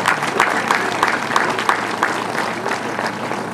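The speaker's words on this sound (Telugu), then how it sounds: "ఒక్కసారి మనం అందరం చప్పట్లతో మారుమోగారు." Audience at a gathering addressed by an honourable judge bursts into sustained applause, a dense, even clatter of many hands clapping nearby for several seconds.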